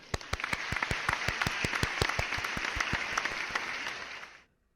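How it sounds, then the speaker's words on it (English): A round of applause for the Green Bay Packers, the NFC's top seed, after their win over the Minnesota Vikings: dense, steady clapping that carries evenly for about four seconds and then stops abruptly. "Let's give them a round of applause."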